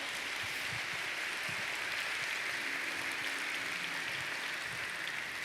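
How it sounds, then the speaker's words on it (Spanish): A church congregation applauds steadily in a dense, continuous wash of clapping that holds at an even level for several seconds without talk. "Solo vamos a darle un aplauso."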